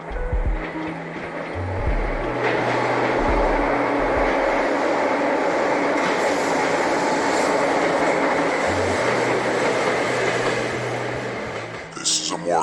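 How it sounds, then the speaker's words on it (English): A train thunders past nearby with a loud, steady rumble and rattle, with low droning tones breaking in and out along the way. "as he was next to a safety niche as the train was approaching."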